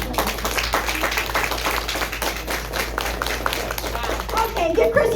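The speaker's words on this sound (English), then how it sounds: "give Chrissy one more round of applause." Meeting audience giving a round of applause, a moderate patter of clapping that runs throughout over a steady low hum, with voices heard near the end.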